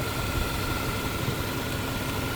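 A car engine that has been shot keeps running, a steady idling rumble throughout.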